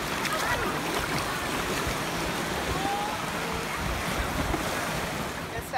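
Waves rolling onto the shore at Panama City Beach, Florida, a constant loud wash of surf mixed with heavy wind noise across the microphone, unbroken throughout.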